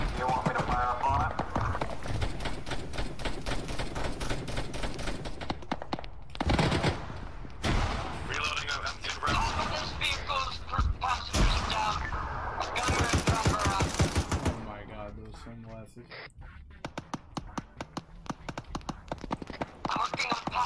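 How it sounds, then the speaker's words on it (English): Automatic gunfire from a mounted machine gun in the military game Arma 3 crackles in dense repeated bursts, layered with other shots and battle noise while players talk over it throughout. "I see that machine gun in place. Do you want me to fire up on it?"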